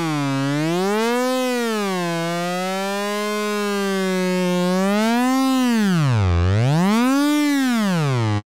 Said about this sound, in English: Let's go back to a regular sine wave so we can really hear it clinically.